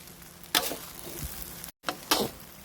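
Thai train-style fried rice (khao phat rot fai) is stir-fried and tossed in a pan, giving two short bursts of sizzling and scraping separated by a brief gap.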